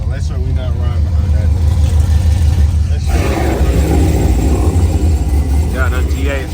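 Several straight-piped Pontiac G8 GT sedans from 2008 rev and rumble loudly at a car meet, a deep continuous roar that swells and stays heavy throughout, with people talking over it.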